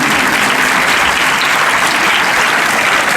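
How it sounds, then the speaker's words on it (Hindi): Children seated at the front of a Children's Day school programme clap together in loud, sustained applause that stays even and close throughout, with no talking. "जो बच्चे हैं जो सामने बैठे हुए हैं वो जब तक तालियां बजाते रहेंगे"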